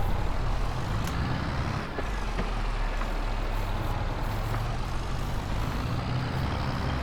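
A vehicle rumbles steadily over rough, overgrown ground in a 1990s-era survival game, a loud continuous engine drone with low jolts and rattles throughout and no talking.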